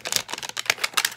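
Quick, rasping zips from a zipper being pulled open on toy packaging, several short bursts in an uneven rhythm, close and fairly loud.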